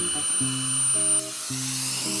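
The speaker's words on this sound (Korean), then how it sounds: "첫 번째는 휴대용 송풍기입니다" A steady electric whir from a small portable handheld blower motor runs throughout, with a high hiss on top and a brief dip in pitch partway through.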